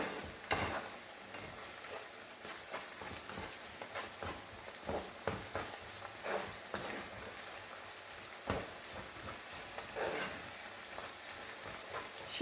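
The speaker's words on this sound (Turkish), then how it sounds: "Böyle salça kokusunu verene kadar karıştıracağım." Tomato paste frying and being stirred in a pan gives a quiet continuous sizzle broken by scraping clicks and taps, with no talking.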